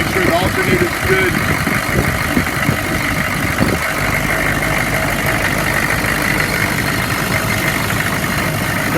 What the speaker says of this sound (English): Idling great.